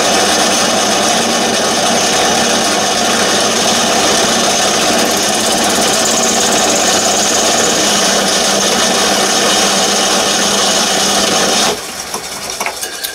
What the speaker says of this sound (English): the first thing I'm going to do is just to face them off and get them to the right length